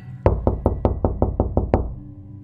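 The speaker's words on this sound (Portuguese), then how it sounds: "Eu estava na frente da porta. Eu passei a mão na testa e bati." Knocking on a wooden door, eight firm, evenly spaced raps in a steady rhythm, close and loud, each with a hard attack and a short resonant thud, followed by silence.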